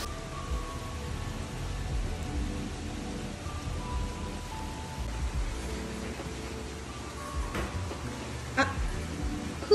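Heavy rain pours down steadily during a storm, a dense continuous wash of falling water with a few faint knocks and rumbles beneath it.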